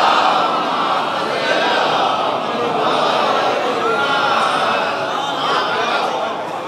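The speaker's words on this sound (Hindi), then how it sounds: "एक सलावत पढ़े मिलजुल के बर मोहम्मद व आले मोहम्मद।" A large majlis congregation reciting salawat together in unison, a dense, loud wash of many voices chanting at once, sustained without pause.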